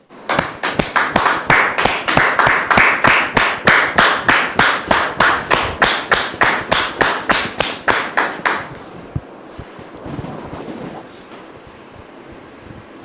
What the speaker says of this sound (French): merci de recevoir maintenant Ruth sous vos applaudissements